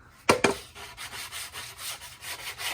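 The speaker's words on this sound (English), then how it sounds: "We finished sanding all the top components to the cabinet." A wooden dartboard cabinet part is sanded by hand: two sharp knocks, then a steady run of rhythmic rasping strokes, close and fairly loud.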